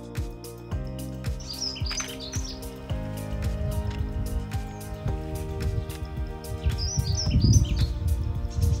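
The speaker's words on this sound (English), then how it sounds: "Yeah, we've got the blackbird here now." A blackbird sings in a UK garden, its bright phrases coming in short bursts over a steady droning background of music-like tones and rustle, moderately near.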